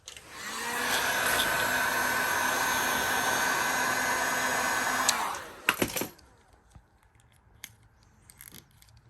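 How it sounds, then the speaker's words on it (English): A heat gun blows a steady loud whirring roar for about five seconds while heating vinyl wrap edges on a car door handle, then cuts off, followed by clacks and faint handling noises. "I'm gonna heat these edges up, and I'm gonna trim them."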